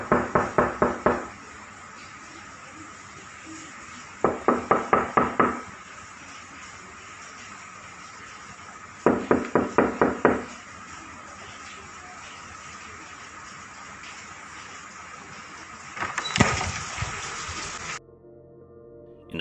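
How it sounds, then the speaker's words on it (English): Rapid bursts of knocking, each a quick run of about six sharp raps, repeat four times with pauses between them, loud and close against a quiet, hissy room, the last burst blurring into a rushing noise. "this knocking sounds quite a bit faster than the previous one"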